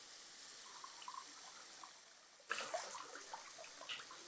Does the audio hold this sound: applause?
no